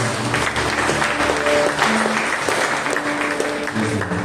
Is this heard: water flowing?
no